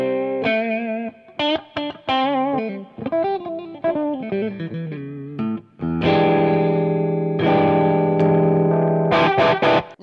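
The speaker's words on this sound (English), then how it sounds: "Sounds great when you have both pickups on and coil tap," A Parker Fly electric guitar with both pickups on and the coil tap engaged, played through distortion and effects; bright single-note runs and bends give way to sustained chords, then a final quick flurry.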